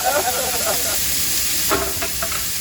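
Soy-marinated diced pork loin sizzling in a wok, a bright continuous hiss with a few spatula scrapes and stirs toward the end.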